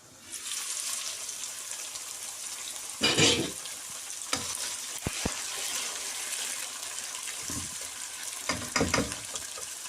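Onion and tomato sizzle and fry over a low flame in a covered pan for a chicken and potato gravy, a steady close crackle broken by a few louder stirring clatters and knocks.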